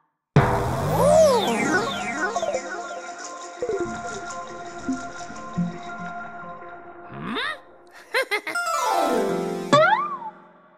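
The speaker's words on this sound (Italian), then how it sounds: "He bounces the ball." Cartoon-style boing effects for a ball being bounced: loud, springy pitch-bending wobbles ringing over several seconds, with a second burst of quick rising and falling boings near the end.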